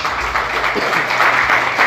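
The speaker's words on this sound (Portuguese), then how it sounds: "Você pode aplaudir Jesus bem forte?" Church congregation clapping together during a sermon, a dense, steady wash of applause that stays loud and even throughout, with a faint voice barely rising beneath it.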